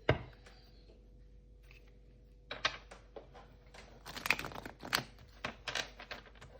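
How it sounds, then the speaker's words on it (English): Tarot cards being shuffled at a reading table, heard as a quiet stretch followed by a rapid series of crisp close riffling and tapping bursts, alone without talk. "now I will start and shuffle the cards and see what message we get"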